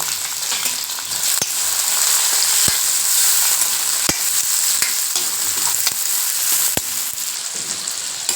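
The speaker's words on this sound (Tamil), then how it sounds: "ஒரு கைப்பிடி அளவு பூண்டு ஒரு சின்ன துண்டு இஞ்சி ஒரு கைப்பிடி அளவு தேங்காய் இதெல்லாம் மொத்தமாக போட்டு நல்லா வதக்குங்க" Garlic, a small piece of ginger and a handful of coconut sauté in a hot pan, with loud, constant sizzling and crackling marked by several sharp spatula taps and scrapes, and no speech.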